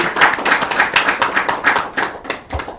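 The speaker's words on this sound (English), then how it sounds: "Let's have another round of applause for our gifted friend, Kevin." Applause from a church congregation at a Sunday morning service, a steady patter of many hands clapping at moderate distance, with no voices over it.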